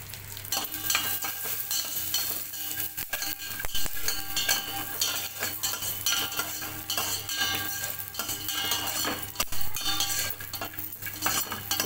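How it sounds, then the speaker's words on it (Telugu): Dry fruits fry in hot ghee in a pan, giving a steady, dense sizzle throughout, with a metal spoon scraping and clinking against the pan as they are stirred. "ఇప్పుడు డ్రై ఫ్రూట్స్ అయితే వేసి వేయించుకుంటున్నాను."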